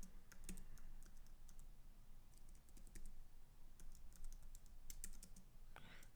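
Steady typing on a computer keyboard, a close run of light key clicks in short bursts with brief pauses, alone with no talking.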